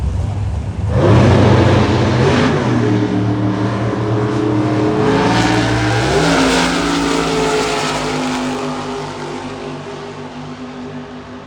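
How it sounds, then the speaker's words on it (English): NHRA sportsman drag racing cars revving loudly on the starting line at a four-wide nationals event, a dense sustained engine roar with pitch shifts as throttles rise, heard alone and close. "sportsman cars on the line right now"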